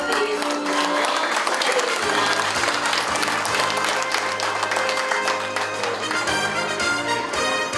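A large crowd at a Korean War 73rd anniversary commemoration breaks into steady, full applause that holds strongly throughout, many hands clapping together with little variation in level.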